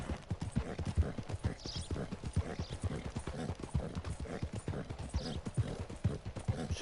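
Steady, rapid clip-clop of horse hooves in Red Dead Redemption 2, loud and continuous throughout at a brisk gallop-like rhythm, with faint game ambience and no talking.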